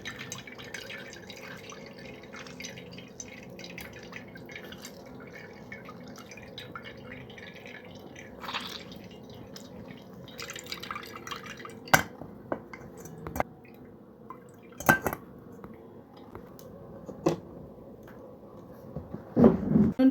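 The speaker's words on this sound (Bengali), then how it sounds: "আমি দুটো লেবু দিলাম, রসুন চিপে বার করে দিচ্ছি।" Two lemons are squeezed by hand in a kitchen while making a fruit cake, giving faint, scattered drips and small wet squishes over a quiet background.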